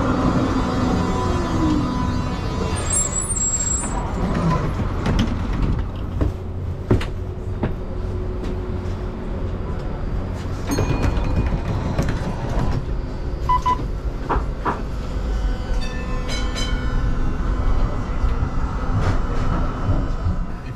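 Steady low rumble from a Melbourne Z3 class tram, number 172, running through St Kilda, heard close from on board with scattered clicks and knocks over a continuous hum.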